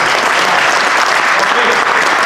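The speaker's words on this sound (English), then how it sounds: "Please applause for girls" Applause for a girls' team during a basketball coaching clinic, a loud, close, continuous burst of many people clapping.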